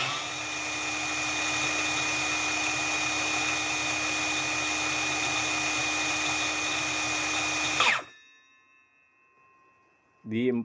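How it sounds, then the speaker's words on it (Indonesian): A cordless circular saw spins freely at no-load speed, a loud, steady high-pitched whine held for about eight seconds before cutting off and winding down, followed by a brief clatter. "Sekarang saya akan cek RPM no load speed-nya."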